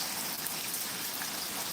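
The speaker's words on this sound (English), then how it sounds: "Yeah, it's raining again. It's starting to rain a little better here, Miss Needle." Steady rain falls throughout, a dense continuous hiss of drops on surfaces with no voices, even and unbroken across the short stretch.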